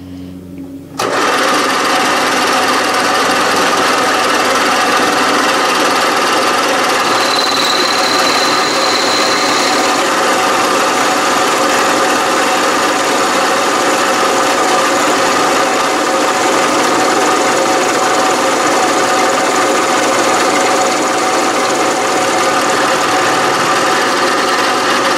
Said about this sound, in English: Cutting speed of about 1100 RPM, and that's again a 3/8 end mill that is not all that sharp.